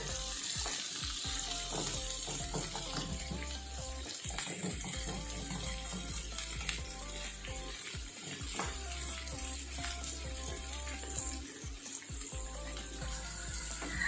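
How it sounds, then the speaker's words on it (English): Onions fry in a pan for a caramelized onion and cheese sandwich, giving a loud, continuous close sizzle with bursts of crackle and occasional stirring, no voices heard. "You need to fry it nicely, like a little bit of golden brown in color."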